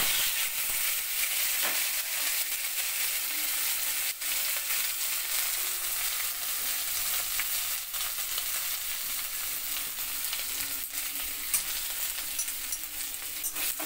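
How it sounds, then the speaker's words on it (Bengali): Potatoes frying in hot oil in a pan give a loud, continuous, even sizzle throughout, with faint scattered crackles and no talking. "আলুটা একটু লাল করে ভাজা করে নিচ্ছি।"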